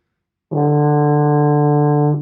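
A baritone horn sounds one steady, mellow low D after a moment of silence, held evenly for under two seconds.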